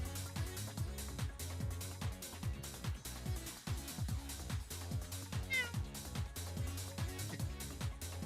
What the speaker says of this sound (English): My cat meowing directly into the microphone